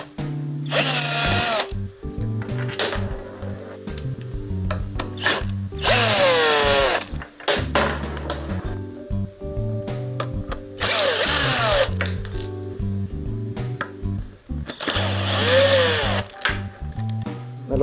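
Cordless power tool backing screws out of a barred wooden crib, several whining bursts with rising and falling motor pitch, close and loud, separated by quieter gaps with small clicks.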